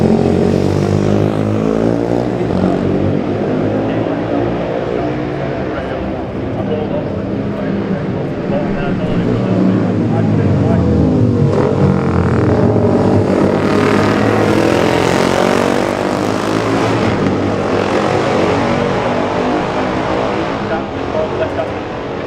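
Racing motorcycles roar past at a classic TT junior race, among them a Ducati, a Seeley and a Bieza, loud and close with engine pitch swelling and falling as they pass, with voices over the noise.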